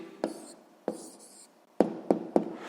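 A pen writes a maths answer on paper, giving a few distinct taps and short scratchy strokes, sparse and close with quiet gaps between them.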